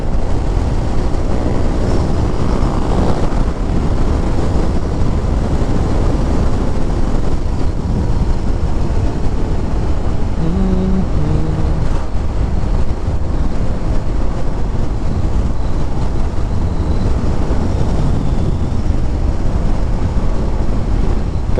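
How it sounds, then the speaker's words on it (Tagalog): Strong, steady wind roars across the microphone of a Honda ADV 160 scooter at high speed, a loud continuous rush with the engine hum buried underneath, on a foggy mountain road. "Lakas ng hangin ah"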